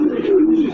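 A pigeon in a loft gives a close, low, drawn-out coo, loud and alone for under a second.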